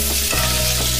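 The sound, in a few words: stir-frying potatoes with green and red peppers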